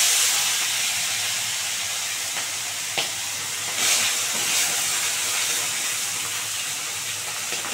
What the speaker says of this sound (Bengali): বন্ধুরা এবারে একটা করে ভেজে নেবো